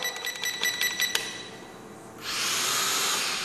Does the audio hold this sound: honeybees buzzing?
no